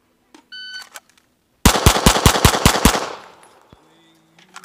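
Seven sharp pistol shots from a Sig P320 ring out in quick, even succession during a 7-yard practice drill, loud and close, with the report decaying into a short echo; faint beeps, likely a shot timer, come just before.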